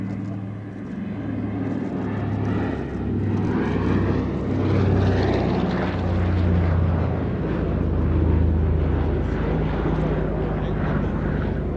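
A Consolidated PBY Catalina at an air show drones with steady propeller-engine noise, loud and sustained throughout, rising slightly in the middle, with a voice talking over it.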